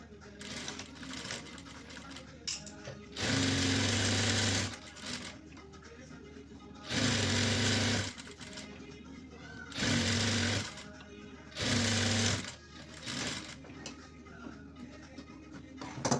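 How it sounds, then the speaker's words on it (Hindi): A sewing machine stitches a pocket onto a salwar in four loud, close bursts of rapid whirring, each a second or two long. A person speaks quietly in the pauses between the bursts. "यहाँ से हम सिलाई लगाएंगे इस तरीके से"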